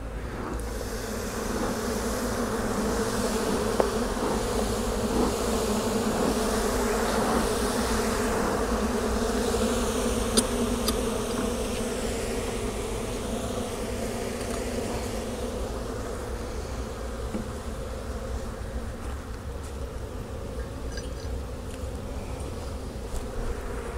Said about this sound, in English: And these bees are doing their best to get killed by the queen excluder.